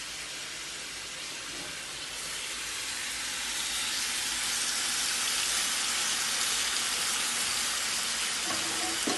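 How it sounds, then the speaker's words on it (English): Pork shoulder searing in a hot pan, a steady bright hiss and sizzle that swells slightly and holds throughout, close and continuous with no voices. "the pork shoulder has been searing for a little bit"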